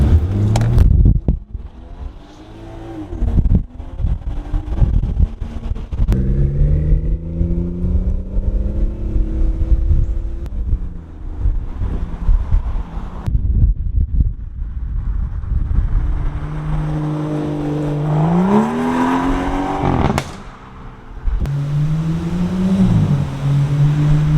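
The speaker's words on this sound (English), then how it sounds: "I'm gonna try to steer here and there just so you guys can maybe hear the clunking noises." A car drives past outdoors at close range, its engine loud and rising and falling as it steers back and forth. Wind buffets throughout, so any rear clunking is hard to pick out.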